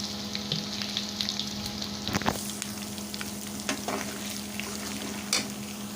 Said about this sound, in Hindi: हम इसमें साथ ये साबुत लहसुन शामिल कर देंगे। इसे भी फ्राई कर लेंगे इसी के साथ ही।